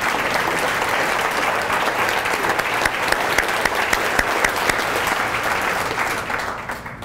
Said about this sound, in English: you guys stand up and let everybody give you a round of applause for that